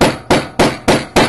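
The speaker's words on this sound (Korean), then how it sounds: "제가 한번 망치로 한번 때려볼게요" A hammer beats a seam flat on a leather jacket being remade, landing five evenly spaced, dull, solid strikes in steady rhythm, close and alone.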